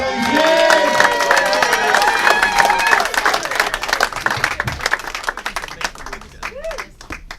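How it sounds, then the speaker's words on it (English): A crowd applauds and cheers loudly, clapping steadily at first, then thinning out as a few shouts and whistles trail off. "Give him a round of applause"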